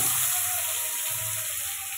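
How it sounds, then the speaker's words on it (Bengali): Pieces of rui fish fry in hot mustard oil in a pan, giving a loud, steady, close sizzle with a soft bubbling undertone throughout. "এখন আমি মাছগুলো সব দিয়ে এক এক করে ভালো করে ভেজে নেব"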